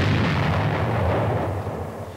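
A Nike Zeus missile warhead detonation booms loudly, a broad rolling blast that fills the air and slowly fades as it decays.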